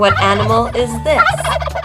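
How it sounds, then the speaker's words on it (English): A turkey gobbles loudly and close by in a rapid, warbling burst, repeated in quick succession, with a voice asking a brief question. "A turkey."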